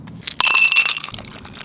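Ice cubes clink and rattle into a glass of premixed whisky and cola, a short bright burst of glassy knocks up close.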